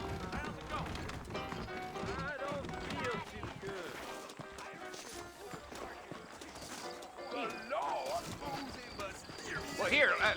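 Horses in Red Dead Redemption clip-clop at a trot on a trail, hooves thudding rhythmically under a busy mix of game sounds and talking voices, with a neigh-like cry near the end.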